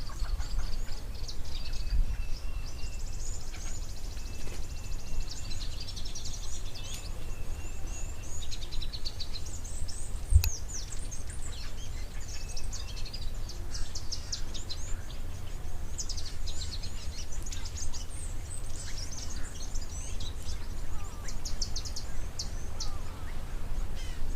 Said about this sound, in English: the white-browed scrub robin is one that we hear very often in the background